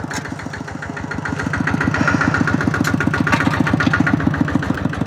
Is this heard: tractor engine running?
yes